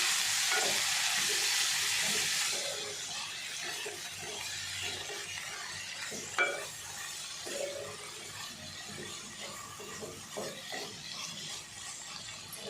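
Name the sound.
black-eyed peas being stirred into roasted masala in a pan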